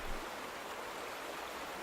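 Water flowing and pooling at a dam in The Vanishing of Ethan Carter video game, a steady, even rush of stream-like water that holds at a constant level throughout with no talk.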